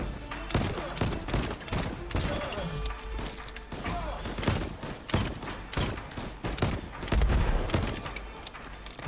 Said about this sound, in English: That fire extinguisher exploded.